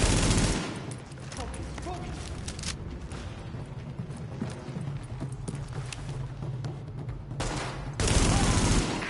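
Heavy gunfire from a rooftop in the video game The Division: a steady, rattling fusillade of rapid shots at moderate distance, running continuously with a brief louder surge near the end, under faint background game noise.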